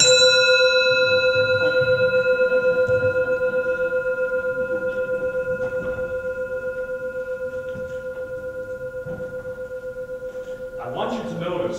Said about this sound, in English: I want you to notice what happened when I rang that bell.